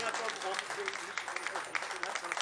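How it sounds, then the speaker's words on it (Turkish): At a televised memorial program, an audience claps steadily to welcome a performer to the stage, with a dense wash of applause running under someone speaking. "Alkışlarınızla Ali Doğan gelecek"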